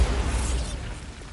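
A Bombarda spell blast in Hogwarts Legacy, a brief, loud, low explosive boom with a crackling burst that fades quickly.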